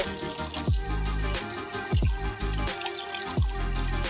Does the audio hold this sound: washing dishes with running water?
yes